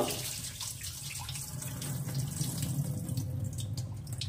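Rinse water being drained from washed rice, a steady close rush of pouring water with a faint trickling edge, running continuously at moderate volume with no talking.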